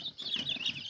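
Young chicks of the Moscow black breed startle and flap their wings in a brief, soft flurry, with faint clucking underneath, close by in a quiet pen.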